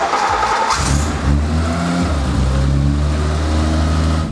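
A project car's engine idles steadily after an oil change and coolant top-up, a loud, even low rumble that runs without a break, with a short rise in pitch near the start and no voices.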